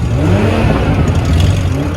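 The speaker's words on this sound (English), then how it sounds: "There's the backfire I've been waiting for." A Toyota GR Supra engine revs with a steady mid-pitched drone heard from inside the car, without a clearly separate backfire pop.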